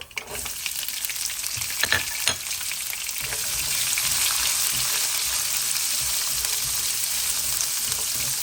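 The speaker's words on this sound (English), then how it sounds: "I'll add in my onion now." Onion dropped into hot oil with whole spices for a Fiji-style chicken curry, a few sharp stirring clacks early, then a loud, dense sizzle building and holding steady with no voices.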